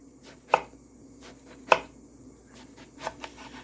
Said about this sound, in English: I'm going to cut it on a bias like this